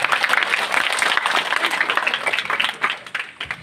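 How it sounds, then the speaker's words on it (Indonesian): Audience applause at an Islamic sholawat gathering, steady dense clapping from a crowd for several seconds, loud and close, thinning slightly toward the end. "Sekali lagi tepuk tangannya Pak Ibu."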